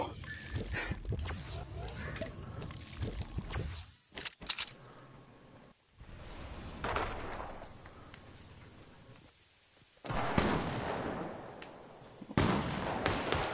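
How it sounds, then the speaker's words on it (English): Gunfire in a Fortnite battle royale match, bursts of sharp shots and crackling bangs in several clusters, loud at times and fading between, with game noise around them. "Sounds like he's getting shot."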